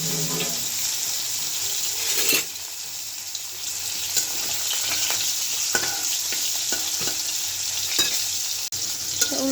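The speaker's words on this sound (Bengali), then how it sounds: "তেলটা গরম হয়ে আসছে, মাছটা দিয়ে দিব।" Snakehead fish fries in hot oil in a wok, a loud continuous close sizzle with scattered pops and crackles and no talking.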